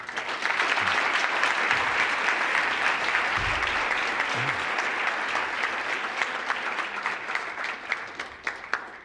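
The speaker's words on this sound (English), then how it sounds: "Let's give Mark a round of applause." Sustained audience applause after a university lecture, a broad crowd clapping in a thick, continuous roar that holds steady for several seconds before thinning slightly toward the end, heard alone without talk.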